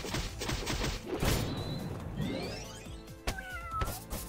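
A cat enemy in the video game Epic Battle Fantasy 5 meows amid dense game music and battle effects, with a couple of loud cries standing out over the busy soundtrack.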